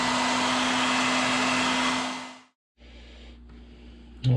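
Heat gun heat-setting paint on a hand-carved muskie lure, a steady loud blower whir with a constant hum that winds down to silence, then restarts more quietly.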